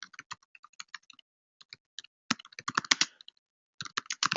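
Rapid bursts of keystrokes on a computer keyboard, clustered clicks with short pauses between runs, close and fairly loud, with no voice over them.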